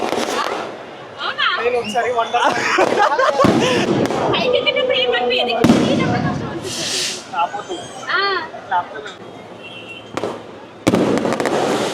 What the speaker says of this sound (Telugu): క్రాకర్స్ స్టార్ట్ అయినాయి.